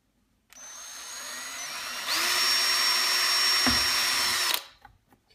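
A power drill whirs steadily for several seconds, its pitch rising as it bites into a wooden drawer front, then winds down and stops.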